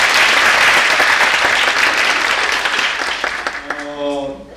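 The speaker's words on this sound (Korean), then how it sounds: "여러분 이럴 땐 박수 한번 치시죠" An audience at a theatre play reading breaks into loud, dense applause that fades gradually toward the end as a voice starts to speak over the last claps.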